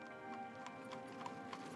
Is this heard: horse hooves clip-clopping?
yes